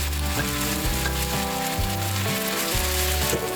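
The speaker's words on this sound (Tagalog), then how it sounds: "ilagay na natin yung paa ng manok" Chicken feet for a Filipino dish sizzling loudly in hot oil in a pan, a dense constant crackle close to the microphone throughout, with a steady cooking hum underneath.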